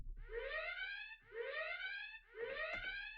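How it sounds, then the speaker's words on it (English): A missile warning alarm sounds in a naval air combat video game, three identical rising electronic whoops repeating roughly once a second, loud and clean, with a couple of faint clicks under the last. "I was wondering where the super loud alarm was going to come in."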